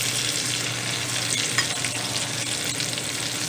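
Artichokes frying in deep bubbling oil, a dense continuous sizzle and crackle, close and steady throughout with no talking.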